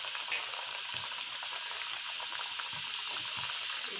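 Homemade doughnuts bubble and sizzle steadily in hot oil, a close, even frying hiss with soft bubbling pops throughout and no voices.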